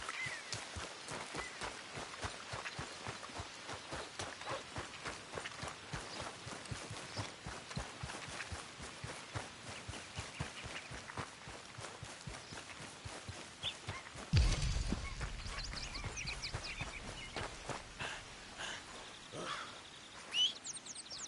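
Horse hooves in Red Dead Redemption II pound out a fast, steady galloping rhythm for most of the stretch. The beat breaks off near the end into rougher ambient noise with a few bird chirps, and no one talks.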